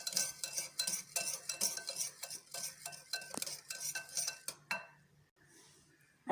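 A spoon clinks and scrapes rhythmically against a bowl while aloo bondi chaat is mixed with chutney, black pepper and salt, a close run of quick strokes that stops near the end.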